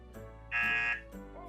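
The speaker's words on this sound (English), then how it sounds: "I actually have this handy dandy little red button buzzer." A little red button buzzer gives one loud, nasal, half-second electronic buzz against a quiet background, with soft tonal sounds just before and after.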